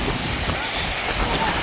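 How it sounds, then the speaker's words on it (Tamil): Strong wind roars steadily and buffets the microphone near the start of Masila Falls, Kolli Hills, producing a dense, rushing noise throughout. "காற்று இந்த அடி அடிக்குது."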